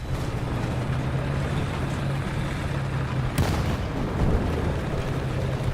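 A tank gun fires once in the War Thunder video game, a sharp mid-clip boom over a steady rumbling engine and battlefield noise.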